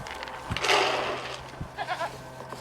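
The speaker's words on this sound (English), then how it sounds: "You are the hungriest goat I have ever met." A goat bleats in several short nasal bursts, close and fairly loud over a steady low hum, with a brief pause between calls.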